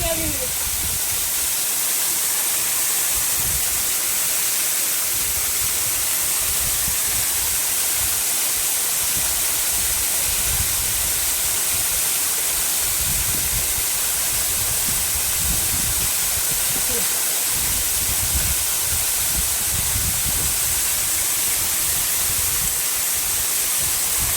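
Constant roaring hiss of the Puthur Nadu waterfall pouring nearby, loud and unbroken, with faint voices now and then beneath it.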